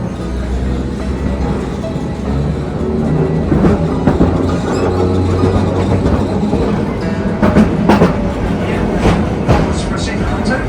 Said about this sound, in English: tram ਆਪਣੀ ਆ ਗਈ ਇੱਥੇ